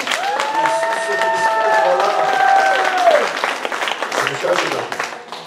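Church congregation claps for the risen Christ at an Easter service in Moscow, a steady roar of applause with cheering voices and a sustained sung or shouted tone over it, tapering off toward the end.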